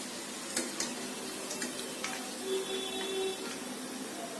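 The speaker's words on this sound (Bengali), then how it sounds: "এরকম লাল করে ভাজবো আমি সবগুলি নাস্তা।" Chicken kabab snacks fry in hot oil with a steady, close sizzle and crackle, broken by a few light clinks and scrapes of a utensil in the pan.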